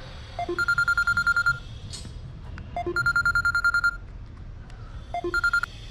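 A telephone dials out in three bursts of quick, evenly spaced keypad tones, each burst about a second long with short pauses between, clear against a faint room hum.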